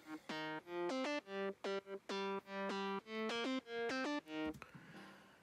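Sidechained square-wave synth bass imitating a bass guitar, playing a run of short punchy notes with pumping gaps between them, dry and upfront, then cutting off into a brief noisy tail.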